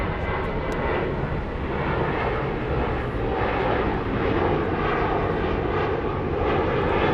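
An ANA Boeing 787-9 Dreamliner bound for Tokyo Haneda rumbles steadily at Frankfurt Airport, a loud, sustained engine roar with a faint high whine, no voices over it.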